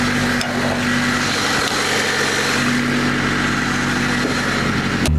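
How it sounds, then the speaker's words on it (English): Honda Civic fitted with a cheap Temu intake, engine running on a test drive, a loud steady rattling drone with a sustained hum and occasional clunks, no talk over it. "Feels like a Honda Civic rattling its hair off."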